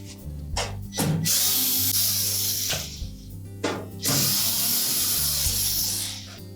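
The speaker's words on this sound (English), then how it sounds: "next we're going to take out these 3 screws, remove that shield" Screws are backed out of a Samsung range with a powered driver, giving several short whirring bursts with brief pauses between them, close and clear with no talking.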